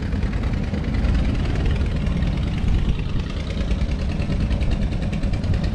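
Engines of fishing boats trawling nearby in the Sunda Strait, old clunker vessels out at sea: a steady, loud diesel drone with a rough knocking throb that runs on continuously.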